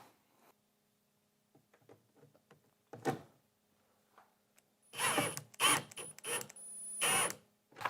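A bolt is driven into a Corvette C7 conversion side skirt rocker panel, giving a few scattered mechanical clicks and taps, then a louder run of close ratcheting and whirring bursts near the end.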